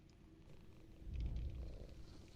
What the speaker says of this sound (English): And Jetty put that purr sound effect.